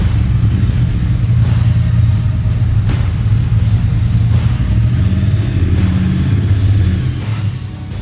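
Triumph Bonneville 2021 motorcycles with engines running as they arrive, giving a loud continuous low rumble that stays steady throughout and eases slightly at the end.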